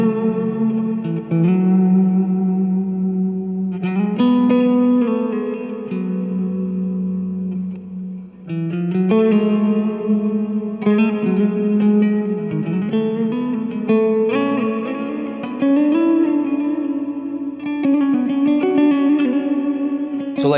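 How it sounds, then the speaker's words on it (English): An electric guitar plays sustained chords and notes through a TC Electronic Hall of Fame Reverb 2 pedal, with lush reverb tails washing between phrases, loud and unaccompanied. "I got the TCE Hall of Fame Reverb 2 here. Awesome reverb pedal."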